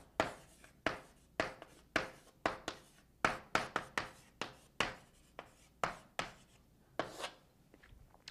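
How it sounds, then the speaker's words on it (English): Handwriting out Bayes' formula, a steady series of soft scratchy strokes and taps, close and quiet, repeating about every half second with no talk. "I'll write that out for you."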